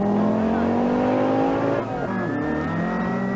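A Nissan rally car driven by Timo Salonen, No. 1 at the 1983 rally in New Zealand, accelerates hard on a stage, its engine note climbing through gears, loud and close.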